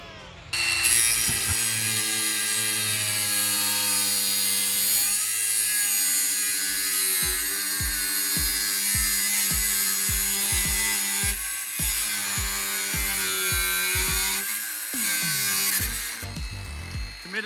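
A power tool cuts through a metal jerry can holder, whining loudly and steadily with bright high-pitched grinding, then a run of rhythmic pulsing strokes in the middle and a slowing finish, no voices over it.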